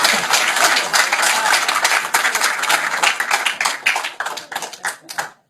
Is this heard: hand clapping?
yes